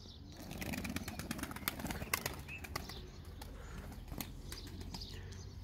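A çakmaklı tumbler pigeon flaps its wings in flight nearby, producing a run of sharp, rapid wing claps and flutters that rise and fall over several seconds, with no voices.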